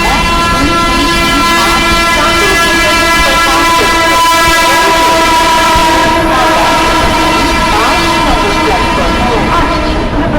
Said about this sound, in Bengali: 1238 Shantiniketan superfast express from Bengaluru to Howrah is arriving on platform number 5